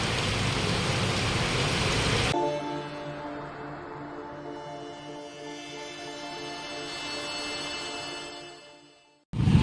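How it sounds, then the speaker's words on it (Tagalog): Heavy rain pours at the Malabon fish port, a dense roaring hiss for the first two seconds before it cuts off to a quieter tonal hum, with a loud burst of noise returning at the very end. "Grabe itong ulan na binabagsak ngayon sa mga oras po na ito."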